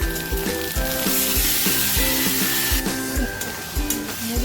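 Boiled taro greens going into hot oil tempered with nigella seeds, dried chillies, garlic and a little onion, a loud close crackling sizzle broken by repeated clattering stirs and knocks of the spatula.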